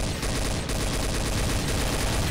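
Gunfire in Garry's Mod Trouble in Terrorist Town, a loud, dense burst of rapid automatic shots rattling continuously from start to finish, close and aggressive with no pauses.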